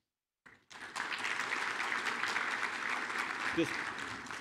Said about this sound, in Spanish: Entonces, un aplauso a Max.